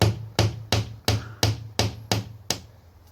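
Eight hammer blows drive a nail into a wall, sharp evenly spaced strikes about every third of a second, close and clear, each with a short ringing decay and no voices.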